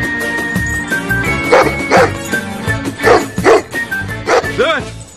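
A dog barking and yelping repeatedly, close and loud, over background music and a shouting voice.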